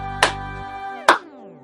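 Hands clap in a domino clapping classroom game, two sharp, close, separate claps about a second apart against a quiet background with a sustained tone behind them.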